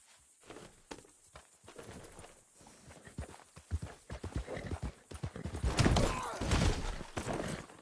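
Horse hooves clip-clopping in the Red Dead Redemption 2 video game, starting as sparse, quiet steps and building into a louder, denser run of hoofbeats toward the end.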